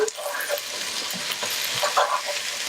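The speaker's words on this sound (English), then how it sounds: "Give it another stir." Pasta with peppers being stirred in a hot pan with the heat just turned off, a soft scraping stir over a steady, close sizzle that fills the whole moment.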